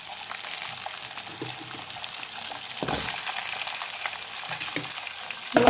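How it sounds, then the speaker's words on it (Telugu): Drumstick pieces frying in a pan with ginger garlic paste and a pinch of turmeric, a continuous crackling sizzle with occasional stirring scrapes and a louder clatter at the very end. "అలాగే ములక్కాయ ముక్కలు కూడా ఫ్రై చేసుకుందాం."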